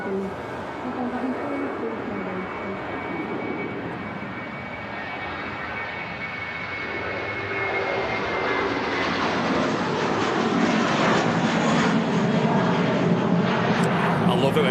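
Jet engines of airliners taxiing at Manchester Airport, including an Aer Lingus service bound for JFK, rumble and whine, swelling louder and brighter as they draw nearer, with voices talking over the noise.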